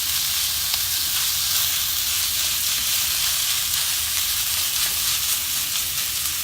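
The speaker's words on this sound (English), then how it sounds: "There's enough fat in the beef that it will just cook and not burn." Ground beef, 90-10 lean, frying in its own fat in a pan without oil or butter, a constant close broadband sizzle and hiss that holds evenly throughout with no talk.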